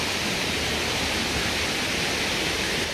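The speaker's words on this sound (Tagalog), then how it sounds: "Ganda ng falls. Tamara Falls." Tamaraw Falls on Mindoro, a constant broadband rush of falling water, steady and fairly close, with no other sounds.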